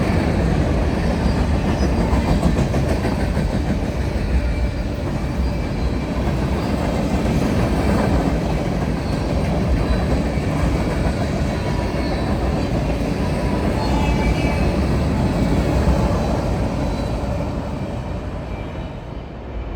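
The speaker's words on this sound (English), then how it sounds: "This is a typical RVEU, comprised mostly of empty center beams bound for Willamette Valley Shortline Railroad connections." Freight train made up mostly of empty center beam cars rolling past on the Cascade line in Oregon, a long steady rumble of wheels with clickety-clack and faint squeal, close and continuous, fading slightly at the end.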